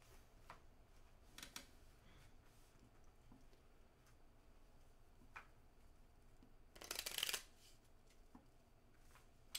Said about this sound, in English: shuffle transportation cards and deal a starting hand of two cards to each player